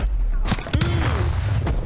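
Rapid bursts of MP5 submachine gun fire in Black Ops Cold War multiplayer, several sharp loud shots cracking close by in quick succession, with booming echoes between them.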